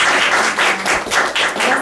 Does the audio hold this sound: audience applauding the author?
yes